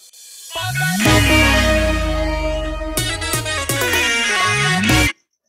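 A song plays from a phone with a bright melody over a steady bass line, clear and fairly loud, with no talking over it.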